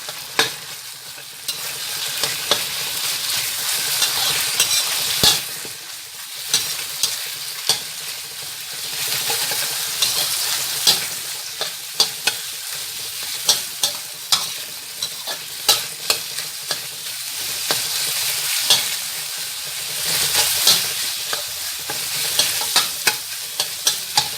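Minced pork sizzling steadily in a pan for pancit lomi, with repeated sharp scrapes and clacks of a spatula stirring it, close and continuous with no talking.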